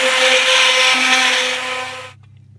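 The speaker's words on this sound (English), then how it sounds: "So I'm just going to use the hand blender." A hand blender purees broccoli soup with a loud, steady whirring drone for about two seconds before it abruptly cuts off, leaving faint room noise.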